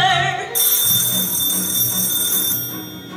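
A telephone rings as a stage sound effect in a high school production of the musical Bye Bye Birdie, a steady bright electric ring running loud and close through most of the moment, with no talk over it.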